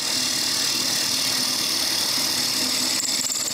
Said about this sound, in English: I drill a hole on the end of the handle